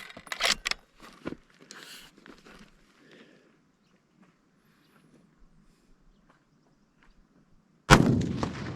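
A Ruger American .308 rifle fires a single loud, sharp shot near the end, after a stretch of quiet with a few faint scuffs and clicks earlier on.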